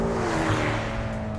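A twin-turbo Ferrari accelerates on throttle, heard as a loud, steady engine drone with a rising hum from inside the car, brief and without talk.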